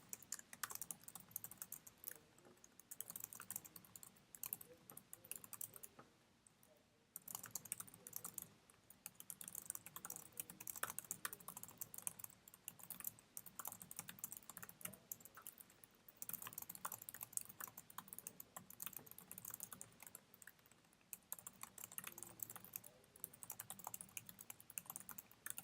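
Close, steady clatter of fingers typing a letter on a computer keyboard, with irregular bursts of keystrokes and brief pauses running throughout and no voices.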